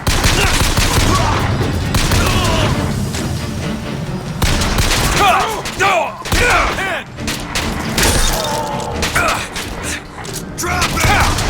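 Gunfire in Bioshock Infinite comes as rapid, loud bursts of shots and booms, mixed with shouting voices and mechanical clatter throughout a dense combat scene.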